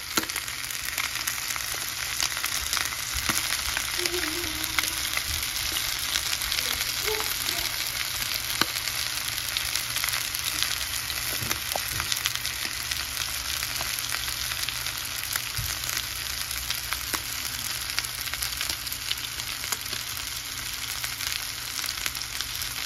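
Chicken legs browning in hot oil, a dense, even crackling sizzle that runs unbroken for a long stretch, with occasional faint pops and turning sounds, no one talking.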